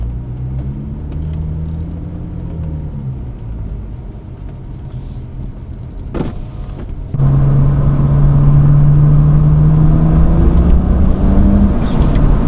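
A BMW N54 car engine warming up, a loud close steady idle with a low droning hum that steps up in level partway through as the note rises slightly, with brief thanks spoken.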